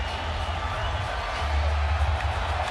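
Crowd noise in a basketball arena during a Clippers versus Lakers game, a steady roar of cheering spectators under a low rumble, rising slightly toward the end, with commentary over it.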